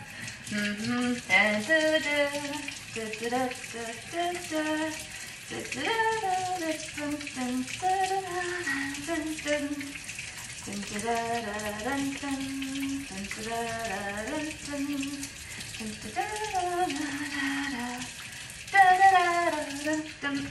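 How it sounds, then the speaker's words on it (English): Water runs steadily from a tap as hands are washed with plenty of soap beneath it, while someone hums a tune over the splashing. "Wash my hands. 20 seconds. Happy birthday twice. Lots of soap. Lots of water."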